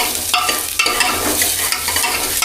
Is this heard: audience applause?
no